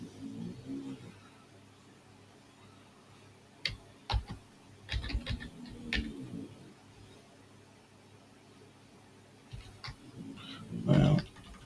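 Short bursts of keystrokes on a computer keyboard, faint clicky taps in scattered clusters separated by quiet pauses, with a louder flurry near the end.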